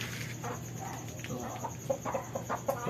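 Chickens, the parent hens of a brood of chicks, cluck repeatedly in short, close bursts over a steady low hum, with the clucks growing busier toward the end.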